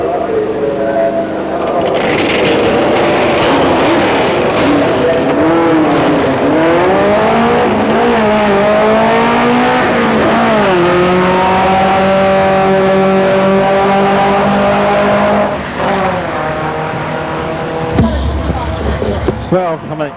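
A Trans Am and a small Westfield launch side by side in a drag race final, engines roaring and rising through gear changes as they pull away, loud and close, with an announcer talking over them.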